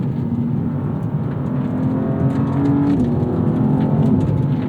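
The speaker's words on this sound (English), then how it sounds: "you get that nice linear pull despite it being twin turbocharged" Twin-turbocharged engine of a 2026 BMW M2 CS (G87) pulling steadily under acceleration around 4,000 RPM, a loud, continuous drone from inside the car that rises slightly in intensity over several seconds.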